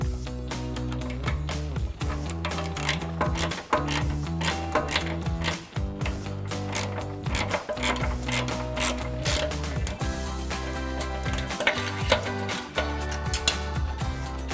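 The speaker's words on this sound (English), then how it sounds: "We're going to come up to our top, 18mm ratcheting wrench, and I have a 5mm Allen wrench to hold the center." An 18mm ratcheting wrench tightens the stabilizer bar link nut on a 2019-2026 RAM 1500 front suspension, giving steady rapid ratchet clicking with short pauses, close and alone.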